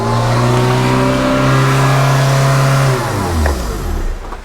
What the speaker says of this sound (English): Why is it revving up like that?